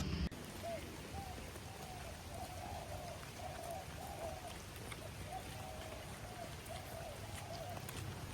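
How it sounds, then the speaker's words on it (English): Heavy rain falls in Bali, a steady broadband hiss of drops that stays even throughout at a moderate, distant level. "And then after that, the rain started,"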